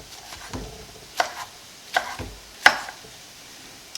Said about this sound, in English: I'll chop the tomatoes